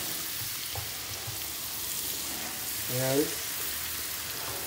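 Butter melting and frying with garlic in a pan, a steady soft sizzle throughout with a brief stir partway, while a person speaks briefly over it.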